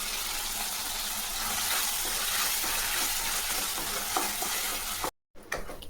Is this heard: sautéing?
yes